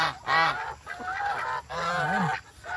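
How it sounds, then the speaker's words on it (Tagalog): Turkeys gobble nearby in several loud, wavering bursts separated by short pauses. "Mga pabo."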